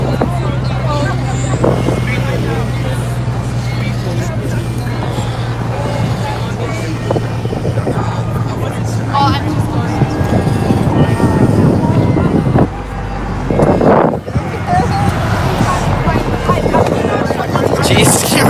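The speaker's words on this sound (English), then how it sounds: "Jeez, it's getting really windy." Strong outdoor wind buffets the microphone in a loud, continuous low rumble that swells and drops, with faint voices mixed into the gusts.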